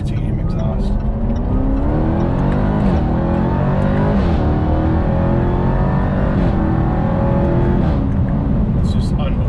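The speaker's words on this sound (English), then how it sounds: "Let's go ahead and listen to that titanium exhaust." A Jaguar XE SV Project 8 engine revs hard and loud through its titanium exhaust, the raspy note climbing and falling in repeated surges, heard close up without pause.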